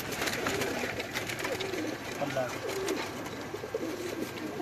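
Pigeons in a loft in Lahore, soft low cooing and murmuring throughout at moderate distance, mixed with background chatter and voices of people talking nearby.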